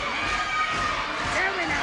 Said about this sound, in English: Crowd don't like it.